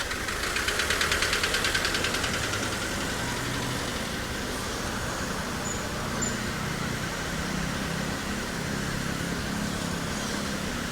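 A vehicle engine on a street in Japan runs steadily with a rough, knocking rumble that stays at an even level throughout as it runs a red light.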